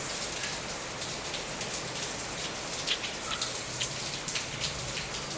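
Heavy rain pouring steadily onto surfaces, a dense, continuous hiss with scattered louder drop splashes, with no voices.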